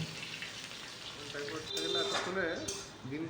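Chopped onions with dried red chillies and bay leaves frying in oil in a pan, a steady broadband sizzle running throughout with faint utensil clinks, under quiet talk.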